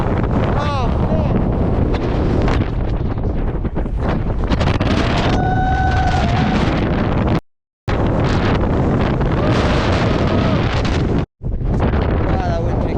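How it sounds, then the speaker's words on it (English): Strong wind roaring across a high mountain summit on a ski descent, buffeting the microphone with loud, constant rumbling gusts, briefly cutting out twice. "Wow, that wind picked up."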